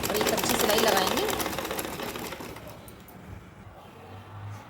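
A sewing machine runs along an anarkali gown neckline, a close motor whir that is loudest at first and fades toward the end, with a voice heard over it.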